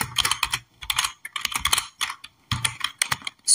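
Quick bursts of keystrokes on a computer keyboard, clicking close and crisp in short clusters separated by brief pauses.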